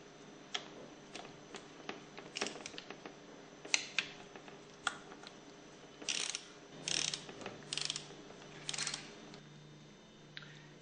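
Ratchet wrench clicking in short bursts while torquing the head bolts on a Hypro 9910-D403 diaphragm pump, close and crisp, with a few longer ratcheting runs and no talk.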